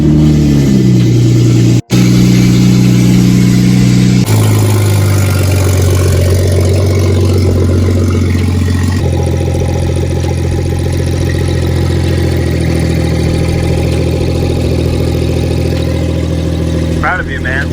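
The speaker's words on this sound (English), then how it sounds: "First big turbo startup." A BMW B58 engine fitted with a big turbo cranks and fires up, then settles into a loud, steady, throbbing idle with some shifts in pitch. It sits close and dominates the whole stretch, with people talking over it.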